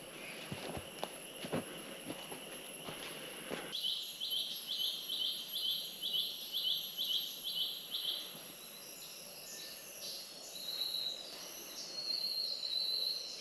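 Birds in a Palau forest give repeated short, high chirping phrases from partway in, fairly faint over insect buzz and a steady hiss, with a few footsteps and knocks early on.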